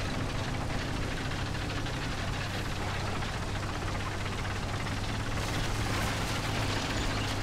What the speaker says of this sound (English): you just hear like a lot of sputtering on the engine